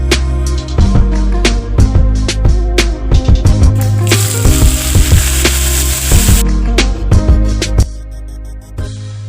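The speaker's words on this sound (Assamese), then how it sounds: "এয়া চাওক মই লাওৰ আগ বহাই দিছোঁ" Chopped bottle gourd shoots go into a hot pan with potatoes, bursting into a loud, close sizzle amid rapid clattering and stirring knocks that settle toward the end.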